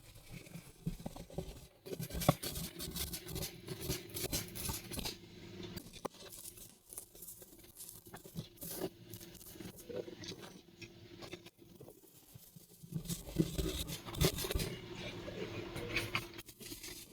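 Craft material being cut for a homemade Mother's Day bathtub gift gives a long run of close scraping and snipping patter, with denser bursts near the start and again toward the end, and no talking.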